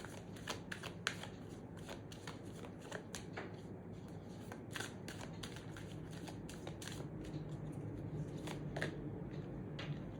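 Tarot cards are shuffled by hand in a quiet room, a continuous soft riffling and sliding with repeated crisp flicks throughout, no voices.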